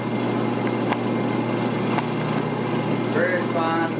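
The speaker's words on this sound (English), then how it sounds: "I've turned my tool almost at a 45-degree angle where I'm doing a shear scrape." Wood lathe tool held at about 45 degrees shear-scraping a spinning turned platter, lifting very fine shavings: a steady close mechanical hum and whir with faint scraping texture, a couple of brief ticks, and some talk near the end.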